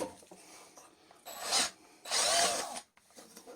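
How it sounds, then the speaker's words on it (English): Power drill boring a pilot hole: two short bursts of whirring and grinding, the second longer and louder, close by with quiet handling noises in between and no talk. "So yes, you can drill a pilot hole first."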